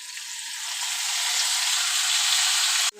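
Spice paste of onion, garlic, ginger, tomato, chili powder and cumin powder fries in hot oil in a pan for tilapia curry, giving a loud, close, steady sizzle that swells slightly, then cuts off abruptly near the end.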